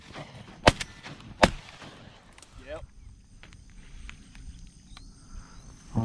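Shotgun blasts from a teal duck hunt, two sharp loud shots about a second apart with a fainter report after, outdoors amid insect chirping, with hunters talking between shots.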